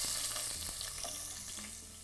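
Onions fry in oil in a pan, giving a steady, fairly faint hiss and sizzle with small crackles throughout.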